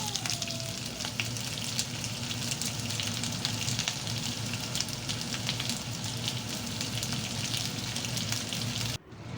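Continuous oily sizzling and crackling of fish frying in a pan, steady and close, with occasional sharper pops, then cutting off at the end.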